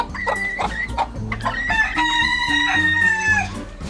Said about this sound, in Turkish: Bakalım tavuk dışarı çıkacak mı?